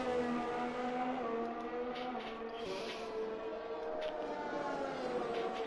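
Haas Formula 1 car on a qualifying lap at Spa, engine whining steadily with rising and shifting harmonic pitch as it drives, heard clearly near the car without voices.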